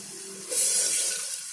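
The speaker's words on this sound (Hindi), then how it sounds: "ऐसे बड़े गिलास से मैंने पानी डाला।" Water from a large glass gushes steadily into a pressure cooker, a sudden loud splashing pour that starts abruptly and keeps flowing, with no voices.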